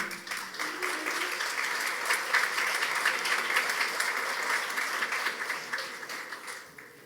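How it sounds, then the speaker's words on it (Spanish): Warm, sustained applause from a forum audience welcoming a panelist, many hands clapping steadily in a large room before tapering off at the end. "el aplauso de ustedes para Jeffrey Illingworth"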